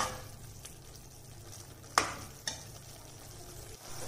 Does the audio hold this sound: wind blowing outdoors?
no